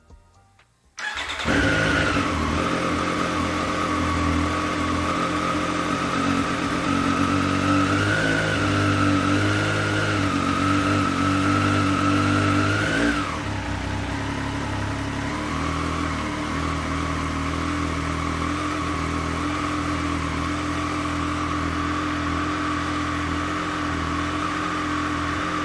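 A 2020 Triumph Street Triple RS motorcycle with its stock exhaust starts after a brief quiet moment, then idles and revs steadily and loudly nearby, with a noticeable drop in pitch about halfway through as the engine settles into a lower idle.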